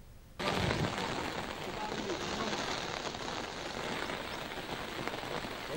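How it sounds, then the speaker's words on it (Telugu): Heavy rain pours down in Manuguru, Bhadradri district, Telangana, starting abruptly and then holding as a loud, dense, steady hiss of drops striking surfaces, with no clear speech. "భద్రాద్రి జిల్లా మణుగూరులోని పలు చోట్ల భారీ వర్షం కురుస్తోంది."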